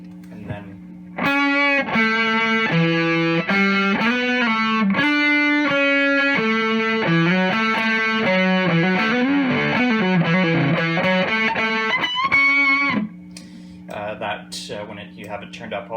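A heavily distorted electric guitar through a Varmint distortion pedal plays chunky, sustained chords and a short riff, thick and muffled in the highs, with a brief picked passage at the end.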